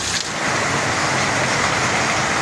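Heavy typhoon rain from Typhoon Carina pours steadily in a dense, even hiss of downpour, loud and unbroken with no voices.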